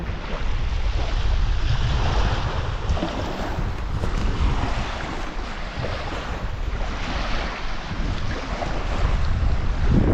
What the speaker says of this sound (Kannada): ಬರೀ ಈ ಅಲೆಗಳ ಸೌಂಡ್ ಮಾತ್ರ